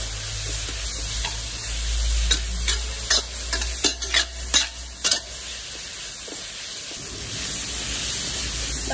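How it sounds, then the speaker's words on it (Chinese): Green chili peppers stir-fry in a wok over high heat, seasoned with salt and soy sauce, as a run of sharp, rhythmic spatula scrapes cuts through a steady close sizzle before easing off. "大概给它翻炒两分钟，将辣椒完全炒熟炒透"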